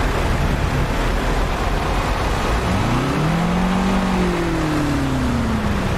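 A car engine drones steadily and close while driving, with a rising and falling engine tone in the second half over constant road noise.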